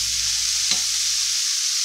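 Eggs cooking with tomato, onion and cilantro in a pan give a constant bright sizzle, with a single brief clink of a utensil near the start; close and steady, no speech.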